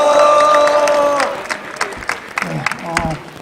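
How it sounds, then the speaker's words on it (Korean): A crowd at an outdoor candlelight protest rally in front of a party headquarters applauds and cheers, loud sustained cheering with voices that fades into scattered claps and shouts. "우리 백제 동지께 다시 한번 힘차고 뜨거운 박수 보내주시기 바랍니다"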